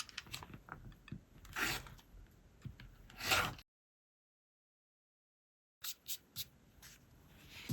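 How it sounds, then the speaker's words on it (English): A fabric quilt unit is trimmed with a cutter along a ruler: several close, dry scraping and rasping strokes, then a sudden silent stretch, then a few more short scrapes and rubs. No talking. "So I'll trim along here and then turn my unit around and trim again."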